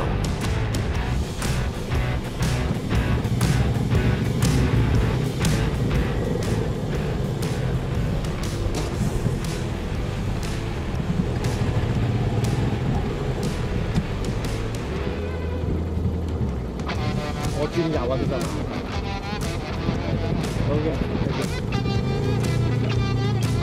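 Motorcycle engine running through a motorbike competence test course at Ap Lei Chau, Hong Kong, a steady mid-level engine drone with rhythmic pulses and shifting revs as the bike turns and changes gear, no talk.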